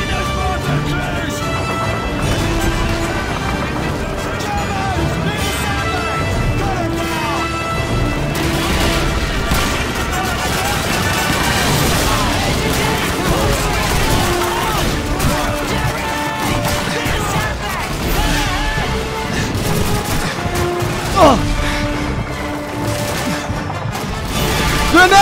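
Call of Duty 2 combat, with booming grenade blasts, crashes and rattling gunfire packed densely over the whole stretch. Shouted voices mix in at times.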